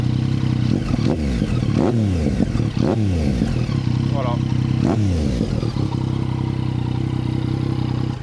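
A warmed-up full-black Yamaha MT-09 with an Akrapovic exhaust idles close by with a deep, steady rumble, broken by several sharp throttle blips that snap up and fall back, and someone speaks briefly.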